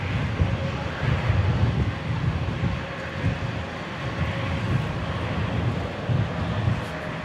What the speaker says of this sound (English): The wind's pretty bad up here today. It's blowing us around.